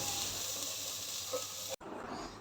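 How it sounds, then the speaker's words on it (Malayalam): Chopped onion with pepper and curry leaves sautéing in a pan for beef stew, a steady close hiss of frying that cuts out abruptly near the end and resumes slightly changed. "ഒരു 2 കറിവേപ്പിലയും കൂടെ ഇട്ടിട്ട് ഇതൊന്ന് വഴറ്റിയെടുക്കാം."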